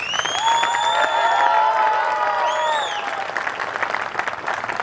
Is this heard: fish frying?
no